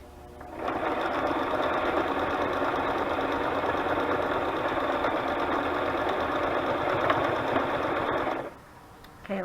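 A sewing machine stitches paper pages of a butterfly journal in one continuous fast whirring run of about eight seconds, close and steady, then stops abruptly.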